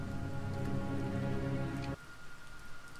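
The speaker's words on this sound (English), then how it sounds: "I should get him out of the rain." Steady video-game rain pours loudly and evenly, then drops to a lighter patter partway through, with no voices heard.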